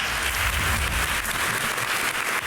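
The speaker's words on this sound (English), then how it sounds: "You can clap." An audience at a talk and Q&A session claps together, producing a steady, full burst of applause that holds evenly throughout.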